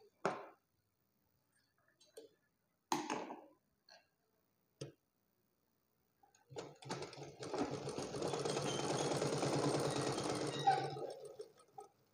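A sewing machine stitches blouse fabric. Scattered clicks and taps of handling come first, then the machine runs in a steady, close, rapid mechanical whir for about four seconds before stopping, with no speech.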